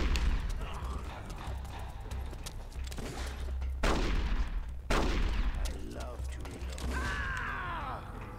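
Repeated gunshots and mechanical weapon clatter in Metal Gear Solid: The Twin Snakes, sharp bursts punctuating a tense scene with a low droning backdrop and voices talking throughout.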